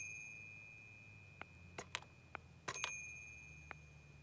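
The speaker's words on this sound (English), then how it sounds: "Maybe that's the doorbell." A red button on a Fisher-Price Little People toy house rings a small bell-like chime, a few light metallic dings scattered over a couple of seconds against quiet room hum.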